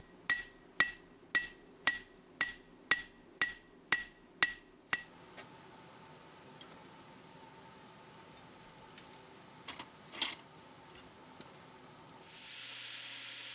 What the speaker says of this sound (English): I'll rough hammer in the bevels